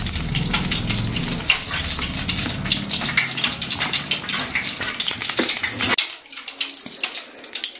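Mirchi bajji sizzle in hot oil in a home kitchen, a dense, continuous, close crackle and hiss that thins out sharply near the end.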